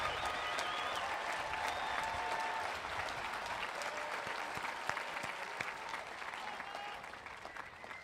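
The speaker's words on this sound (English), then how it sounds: "please join me in applause" An audience at the Ridgefield High School 2024 graduation ceremony applauds in sustained, dense clapping that fills the room, with no speech over it.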